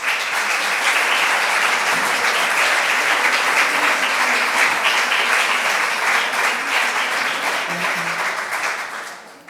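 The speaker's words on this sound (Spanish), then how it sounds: "si les dais un aplauso a ellas, se lo estáis dando a Arturo" An audience at a tribute event bursts into loud, sustained applause, dense clapping holding steady for several seconds before tapering off at the end.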